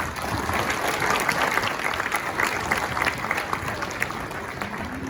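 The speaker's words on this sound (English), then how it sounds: "please a round of applause for all of them" A banquet crowd at a girls basketball club's end-of-season event applauds award and scholarship recipients, a steady wash of many hands clapping throughout at moderate loudness in a large room.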